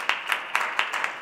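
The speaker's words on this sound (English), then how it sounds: "Charlie absolutely deserves a round of applause for all of his work." Audience applause at a benefit dinner, a steady wash of many hands clapping with a few sharper claps standing out rhythmically, moderately loud and close, with no talk over it.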